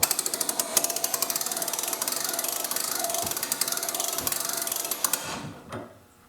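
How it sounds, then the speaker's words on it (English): Rapid ratchet pawl clicking from a pop-up camper lift system as the unit is raised, a steady run of sharp mechanical clicks that stops abruptly near the end. "We should be able to raise it another 10 inches and the ratchet pawl will stop the unit"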